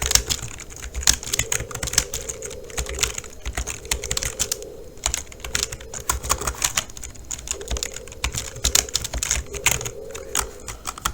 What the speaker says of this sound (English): Dang, I can't type.